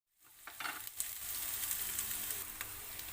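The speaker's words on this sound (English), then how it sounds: "So we just saute for around 1 to 2 minutes." Squid sauteing for adobong pusit in a hot pan gives a steady, close sizzle and crackle, rising after a brief start and holding evenly, with occasional stirring clicks and no talking.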